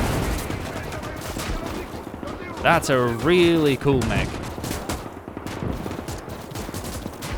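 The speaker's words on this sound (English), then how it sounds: "Machine guns just doing what they can to deal with infantry." Rapid machine gun fire from combat mechs in the Winds of Iron 1920+ mod battle, a dense crackling barrage running throughout, with someone talking briefly over it in the middle.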